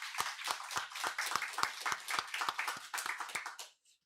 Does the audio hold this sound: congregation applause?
yes